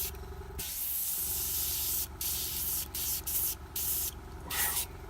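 Airbrush spraying paint onto a Red Cap miniature from Blacksmith Miniatures, a close steady hiss broken by several short pauses as the trigger is released, over a low hum from the compressor.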